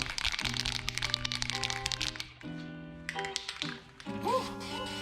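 A spray can of Dupli-color engine enamel is shaken while an engine block is being painted, making close rapid rattling and clicking bursts, briefly interrupted and then resumed, with short sounds in the background.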